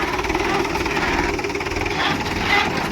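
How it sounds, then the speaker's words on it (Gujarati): A farm tractor with power steering and oil brakes runs in a field, its engine a steady, loud, close chugging drone that holds evenly throughout. "ટ્રેક્ટર છે કપિલભાઈનું પાવર સ્ટીરિંગ છે મિત્રો, ઓઇલ બ્રેક વાળું."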